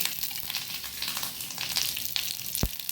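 Curry leaves frying in hot oil for a coastal Karnataka jackfruit seed dish, a soft continuous sizzle with light crackles and a sharp tap of a utensil near the end.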